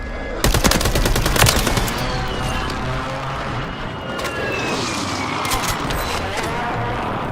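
Reclaimer 18 shotgun blasts in the video game Warzone 3: a quick cluster of loud, sharp reports in the first seconds, then a dense, noisy background of game action that continues to the end.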